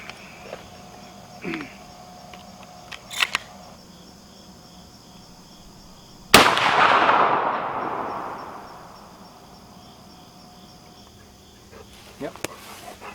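A single shotgun slug is fired at a target: one sharp, loud blast that rings out and decays over a couple of seconds, set against quiet outdoor ambience with faint insect chirps.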